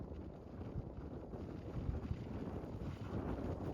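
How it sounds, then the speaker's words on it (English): Steady wind roars in a snowy blizzard out on the ice while ice fishing, a continuous low rushing buffet against the microphone with no break. "I'm trying to keep the wind off here so you can hear me."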